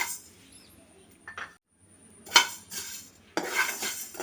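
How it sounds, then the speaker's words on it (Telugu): Coriander seeds dry roasting in a pan over a low flame, heard as bursts of scraping and light metallic clinks from stirring with quiet gaps between. "ఈ ధనియాలు నేను లో ఫ్లేమ్లోనే వేయించుకుంటాను."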